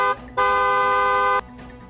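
One steady vehicle horn blast lasts about a second, loud and close, with quieter street background before and after.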